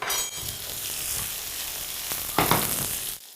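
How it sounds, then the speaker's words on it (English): Vegetables and a clove of garlic fry in a hot pan with a steady, close sizzle that runs the whole time, brightening briefly near the end before cutting off. "We'll let that fry for a moment"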